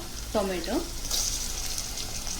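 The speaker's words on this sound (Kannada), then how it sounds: "ಸ್ವಲ್ಪ ಫ್ರೈ ಆಗಬೇಕಿದು." Paneer matar pulao ingredients fry in a pan, a soft, steady sizzle close by with a quick stirring scrape early on and a faint voice in the background.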